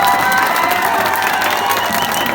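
Outdoor village gathering crowd in Punjab cheering and clapping steadily, a dense continuous roar of voices and applause close by.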